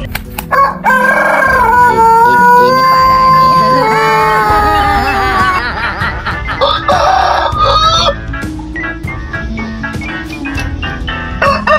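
Loud rooster crowing fills the foreground, with several long, rising-and-falling cock-a-doodle-doo calls followed by clucking and sharp fowl noises.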